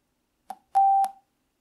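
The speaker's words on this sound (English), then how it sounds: "we do get a beep when it's connected to the phone" A short electronic beep from a Soundbot SB520 Bluetooth speaker connecting to a phone: a brief click followed by a clear steady tone lasting about a third of a second, alone in silence.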